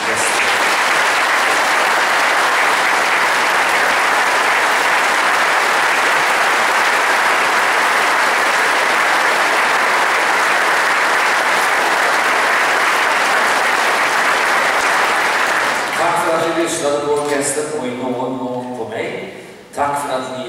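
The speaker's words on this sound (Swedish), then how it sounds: "En varm applåd för Stockholms Stadsorkester." A concert audience gives a long, loud, steady round of applause for the Stockholm Strauss Orchestra at its New Year concert. Near the end the clapping stops and music begins.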